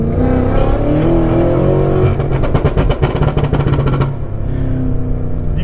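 BMW M5 Competition engine revving hard as the accelerator is pressed, a loud, continuous near roar that climbs into a rough, pulsing crescendo mid-clip and then settles back to a steady, throaty hum.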